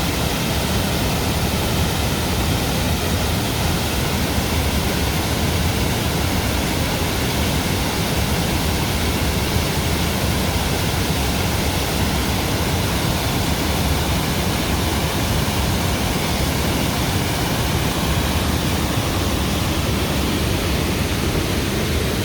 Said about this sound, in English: the constant roar of the falls